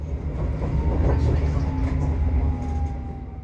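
Alstom Citadis tram riding the Sydney Light Rail L1 Dulwich Hill Line in the Inner West, heard from on board: a steady, loud low rumble with wheel clatter and a faint sustained whine running throughout.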